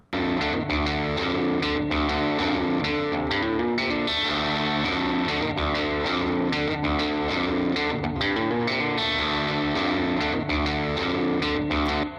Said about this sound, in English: There's some a little bit of spring reverb added to that